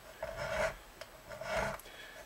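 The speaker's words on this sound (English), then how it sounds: "I just do each one of these frets like that, and then you'll hear it biting in" A metal file rasps back and forth over guitar frets on a Telecaster-style guitar in a few slow, scraping strokes, close and fairly quiet, with brief pauses between passes.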